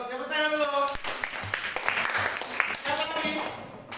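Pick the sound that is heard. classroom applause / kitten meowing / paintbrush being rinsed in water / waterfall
classroom applause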